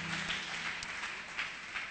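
A church congregation applauding in a steady wash of clapping that fills the room evenly, moderately loud and without pause.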